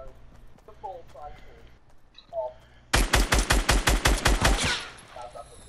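Rapid burst of about ten loud gunshots in the Fortnite video game, an evenly spaced volley lasting close to two seconds and following a stretch of quiet voices talking.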